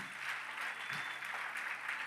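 A church congregation applauds, with soft, distant, continuous clapping that is fairly faint and steady throughout the short stretch.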